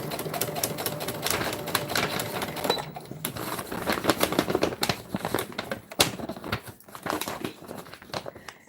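A sewing machine stitches a beach bag in rapid bursts of clattering needle strikes, with fabric rustling and short pauses between runs, loud and close.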